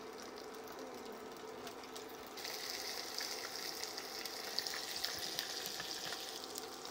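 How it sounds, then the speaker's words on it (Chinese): Tofu-skin sausage rolls fry in a pan with a little oil over low heat, giving a steady close sizzle and crackle that grows brighter and louder partway through. "把这个豆皮卷肠下锅"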